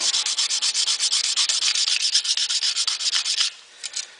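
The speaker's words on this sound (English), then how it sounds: "that area has been sanded pretty much smooth" Rhythmic back-and-forth sanding on stainless steel as a dent is worked smooth, steady close strokes at a quick even pace that stop abruptly, followed by a couple of lighter rubs.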